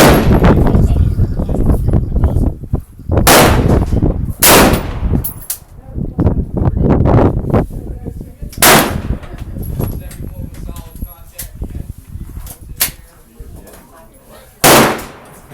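Loud AR-15 rifle fitted with a scope firing at an outdoor shooting range, several sharp separate shots at uneven intervals, with people talking between them.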